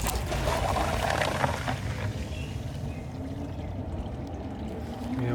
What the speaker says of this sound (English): We have water being filled